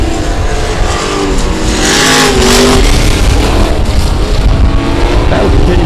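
Race cars roar around South Texas Speedway on the final lap, a loud, continuous engine drone with rising and falling revs as cars pass close by.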